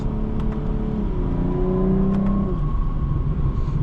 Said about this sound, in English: Get a little bit of burbles from the exhaust as well, which is nice.